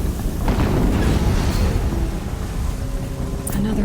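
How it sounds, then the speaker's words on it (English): Rumbling explosion in the video game Horizon Zero Dawn, a loud, dense low boom that rolls on steadily for several seconds with a brief sharper burst near the middle. "Another explosion."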